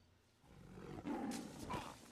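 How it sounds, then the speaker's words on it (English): A tiger roar from the animated film Ice Age, a low growling roar swelling up over about two seconds, fairly faint and heard alone. "this fucking huge-ass tiger roar should totally wake him up"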